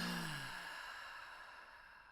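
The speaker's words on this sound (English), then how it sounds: "Take a deep breath with me." A deep exhaled breath released in a slow, long sigh, fading steadily over about two seconds, close and alone at a gentle level.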